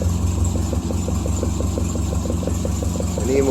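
A Triumph Spitfire engine runs steadily at a close, loud idle with a regular pulsing rhythm, and the revs rise slightly near the end.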